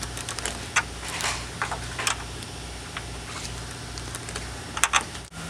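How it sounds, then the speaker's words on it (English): Small number 10 bolts being tightened on a car's A/C condenser, heard as faint, irregular clicks and ticks from a hand tool working close by, with a low steady hum underneath. "Now we can tighten down the little number 10 bolts that keep everything in place"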